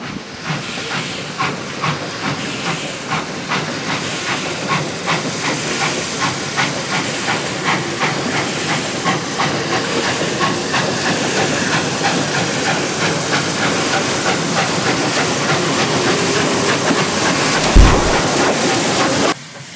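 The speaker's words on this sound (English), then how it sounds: "In the charge of driver Ian Barkler, K150 is awaiting departure." A loud, continuous steam hiss from steam locomotive K150 awaiting departure, with a rhythmic chuffing pulse running underneath, steady throughout, ending in a brief low thump.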